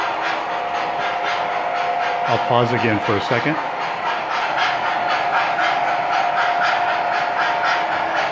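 Three model train engines run together on a home layout, giving a steady close mechanical hum and rattle with a brief clatter partway through, while someone speaks over it.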